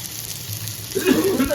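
Fish frying in a pan at home, a soft sizzle that swells louder in the last half second after a quieter, steady background hiss.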